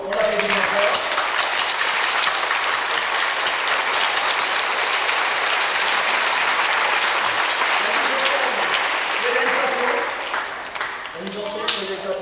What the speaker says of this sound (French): Chantal Oanessian, on l'applaudit encore.